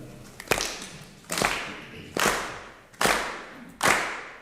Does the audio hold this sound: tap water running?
no